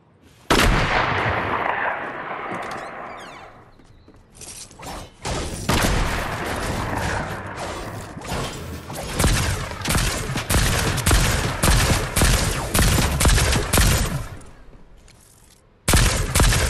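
Gunfire in the Fortnite video game crackles in rapid volleys, one loud blast followed by dense bursts of shots that keep going with brief lulls, close and sharp, with no talk over them.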